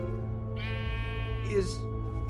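A single synthetic Minecraft sheep bleat with a rising tone rings out over a steady droning musical background.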